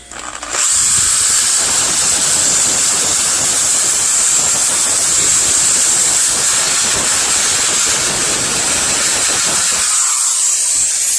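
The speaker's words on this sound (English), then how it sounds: "I'm going to give this a good clean. I'm going to start with the I got this little polishing wheel here" A small polishing wheel spinning on a power drill scours sludge from the engine passages of a 1962 Mercury Comet's 302, running as one loud, steady, hissing whine for about ten seconds before cutting off.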